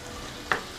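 Mustard greens fry in a pan with carrots and seasonings while a utensil stirs them, giving a steady low sizzle broken by one short, sharp scrape near the end.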